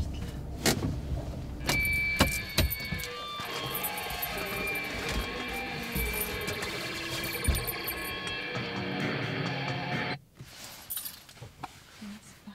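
A car moves through an outdoor scene with an engine and road noise, with keys jangling and clattering handling sounds over it, until the sound cuts off sharply near the end, leaving quieter ambience.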